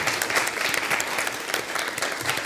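An audience applauds at a French-language debate final, with dense, steady clapping filling the whole stretch, loud and close.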